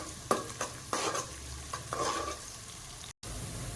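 Onions sautéing until brown for a wedding-style Kayalpattinam kalarikari, with repeated scraping stirs and a steady close sizzle, then a brief cut to silence before the frying resumes.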